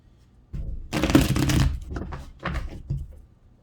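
Tarot cards are shuffled in several quick riffling bursts, crisp and close, with short pauses between them and no talking.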